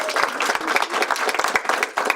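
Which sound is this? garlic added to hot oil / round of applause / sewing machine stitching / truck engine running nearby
round of applause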